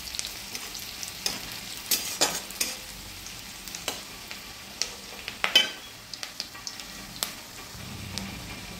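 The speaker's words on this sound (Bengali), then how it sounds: "পেঁয়াজগুলো একবার উল্টে নেব।" A spatula stirs and flips onions frying in a wok, giving repeated sharp scrapes and knocks over a soft, continuous sizzle, all close to the microphone.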